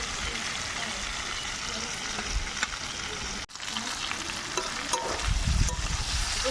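Vegetables and a ground paste of cumin, green chilli and ginger sizzle and fry in a pan, a steady close hiss with stirring scrapes and occasional louder bursts.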